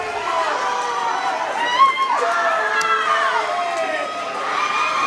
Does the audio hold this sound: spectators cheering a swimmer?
yes